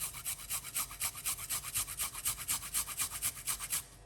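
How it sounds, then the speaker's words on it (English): A small piece of ginger rubbed against a grater in quick, even strokes, about twenty close, crisp rasps in a steady rhythm before stopping. "we're going to grate this little piece of a ginger"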